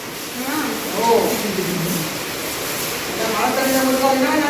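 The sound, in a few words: heavy rain pouring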